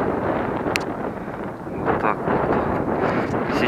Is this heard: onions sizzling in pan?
no